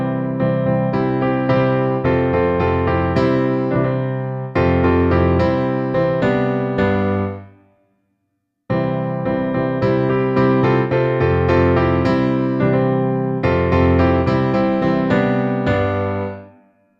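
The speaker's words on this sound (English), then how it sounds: "So we're going to play the voices on the keys." Piano playing the multi-part a cappella vocal intro of a song as block chords; two loud, close phrases of repeated chords separated by a brief silence.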